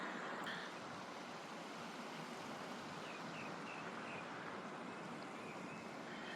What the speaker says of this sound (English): Oh my god, this river is just stunning.